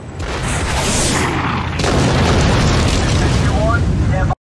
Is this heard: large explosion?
yes